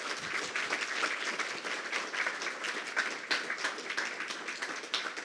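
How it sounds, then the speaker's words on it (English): Sustained applause from a large audience at a conference closing session, a dense even wash of clapping that continues for several seconds without pause. "can we just give all of those people a big last round of applause?"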